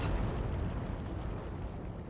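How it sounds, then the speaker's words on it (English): An explosion in a Genshin Impact story cutscene: a loud, dense roaring rumble that fills the whole moment and fades only slightly over two seconds. "That sounded like an explosion."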